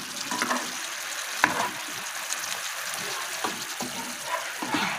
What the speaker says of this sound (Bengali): এবার এটা আমরা সার্ভিং বলে ঢেলে নেব।